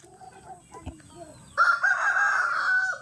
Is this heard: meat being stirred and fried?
no